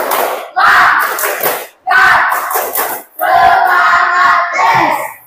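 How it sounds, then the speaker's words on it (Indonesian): Students perform the 'tepuk semangat' spirit clap chant at school, three bursts of loud group voices with rhythmic hand claps, each burst pausing briefly before the next. "tepuk semangat"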